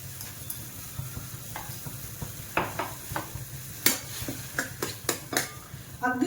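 Finger millet flour mixed with water, sugar and salt is stirred in a pan at home, with sparse scraping strokes that grow quicker and more frequent and end in a few sharp clinks, close and clear.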